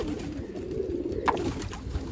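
Pigeons coo steadily close by as they gather to bathe in a tub of water, a soft continuous low burble with no talk.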